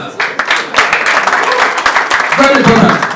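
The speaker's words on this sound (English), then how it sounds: "clap for them." Applause from an audience swells from scattered claps into a full, loud round of clapping, with a voice speaking over part of it.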